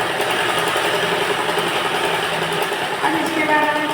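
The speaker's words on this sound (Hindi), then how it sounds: "अब हम यहाँ से सीधा सिलाई एक लगाएंगे जिससे कवर सिलाई बनाएंगे" A sewing machine runs continuously while stitching a cover seam on a blouse, producing a steady, even mechanical whir at close range throughout.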